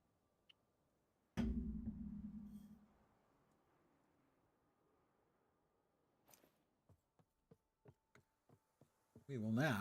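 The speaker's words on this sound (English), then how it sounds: "Bee is summoned." Summoned bee in the game Last Epoch, a broadband buzzing burst starting abruptly and fading over about two seconds, followed later by a series of short rhythmic clicks and a loud buzzing swell at the end.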